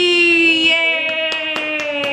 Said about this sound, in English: Lev is clapping.